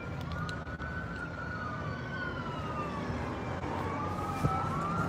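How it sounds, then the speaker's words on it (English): An ambulance siren wails in a slow rising and falling sweep as emergency vehicles approach an accident scene at night, steady and moderately distant over a low background rumble of traffic. "I still hear sirens a long way away."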